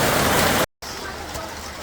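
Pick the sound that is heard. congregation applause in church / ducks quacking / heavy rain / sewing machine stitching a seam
heavy rain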